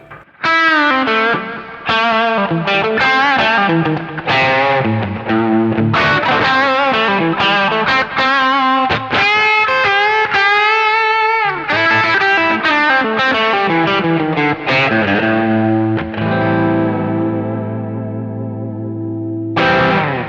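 Electric guitar played through a Kemper amp profiler with a Green Rhino boost and mids pushed up, a driven, effected lead of sustained notes and chords, loud and alone, with a final ringing chord.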